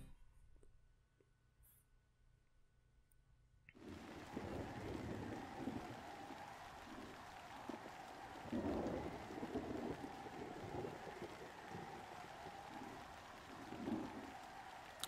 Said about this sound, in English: A very cozy night by the looks of it. I enjoy a good rainstorm or rain shower.